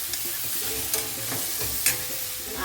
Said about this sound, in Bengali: আদা কাঁচা লঙ্কা আর হলুদ গুঁড়ো দিয়ে এটা ভালোভাবে এইভাবেই নাড়াচাড়া করবো ভাজা ভাজাও হবে